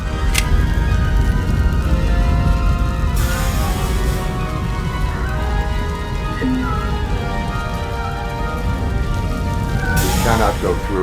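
Fire burning in the Robocop: Rogue City video game, a loud, constant crackling roar with dense popping, broken by brief louder flare-ups and occasional metallic clinks.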